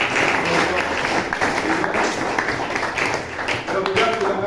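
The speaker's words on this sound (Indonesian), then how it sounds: "Berikan tepuk tangan dulu pada" A classroom of students applauds, a dense, steady clapping that fills the room for several seconds, with a voice talking faintly beneath it.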